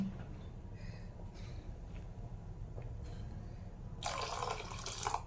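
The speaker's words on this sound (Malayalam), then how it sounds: "അപ്പോൾ കുറച്ച് വെള്ളം ചേർത്ത് കൊടുക്കാം" Quiet kitchen background, then a sudden rush of water pouring for about a second near the end.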